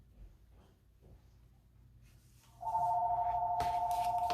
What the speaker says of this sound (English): please ignore the phone ringing